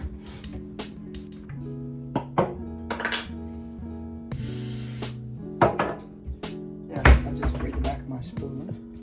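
A spoon mashes cod fish cake mixture in a bowl, producing irregular thuds, scrapes and clinks close by over a steady tonal background.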